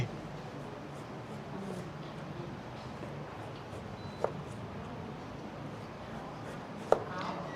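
Quiet knife strokes slicing vegetables on a cutting board over low room noise, with two sharper chops standing out near the middle and toward the end.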